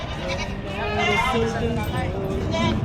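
Goats bleat over a steady crowd murmur at the Padre Garcia livestock auction market in Batangas, with people talking nearby in a busy, noisy setting.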